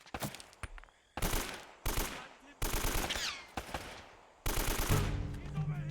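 Video game gunfire in Uncharted: Drake's Fortune, several loud bursts of rapid shots and fusillades broken by short gaps, with game sound effects between the volleys.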